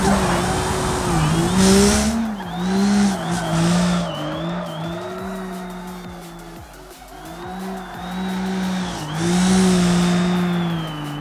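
Racing car lapping the Nordschleife, engine droning and revving up and down through gear changes, tires squealing repeatedly through corners, loud and close with someone talking over it.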